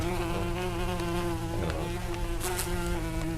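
A wasp buzzes as a sound effect, a continuous droning whine with a steady pitch that holds loud and close for several seconds, with a couple of brief ticks near the end.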